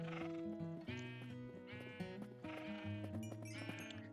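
Sheep in the video game Minecraft Bedrock bleat repeatedly, a series of loud tonal bleats in close succession, each a few tenths of a second long, set over a steady game music backdrop.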